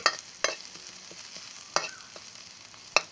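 Crispy fried squid tossed with dried chili in a wok, spatula scrapes and stirring clatter landing in sharp bursts over a low steady sizzle, close by with no talking.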